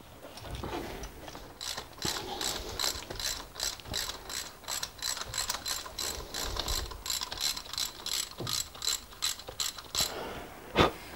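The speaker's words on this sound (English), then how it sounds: "Just pop the plug spanner on." A plug spanner ratchets on a car spark plug, giving quiet, close clicking runs in a steady rhythm of over twenty crisp pawl clicks, with faint handling noise between strokes.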